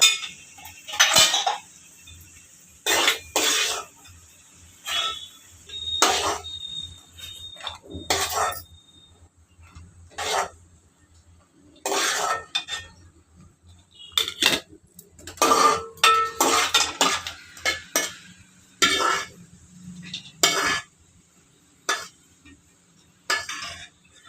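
Fried cashews are scooped from a pan into a bowl, with metal utensils and dishes clinking and scraping in a string of sharp, close clatters and brief quiet gaps between them.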